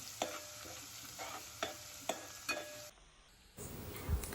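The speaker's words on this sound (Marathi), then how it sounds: "तेल गरम झाल्यानंतर त्यामध्ये वाटून घेतलेलं लसूण टाकून देऊया आणि लालसर होईपर्यंत परतून द्यायचा" Ground garlic fries in hot oil in a pan for a village-style prawn curry, giving a faint steady sizzle broken by soft scraping stirs before a brief quiet gap.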